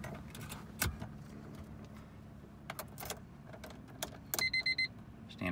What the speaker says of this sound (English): standard Honda door chime, showing all the lights that work.